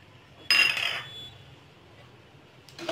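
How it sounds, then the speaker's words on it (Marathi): Coriander seeds tipped into a hot, dry pan land in one sudden bright rattling clatter that fades over half a second, followed by quiet and a faint rustle at the end. "धने घालून घेऊ।"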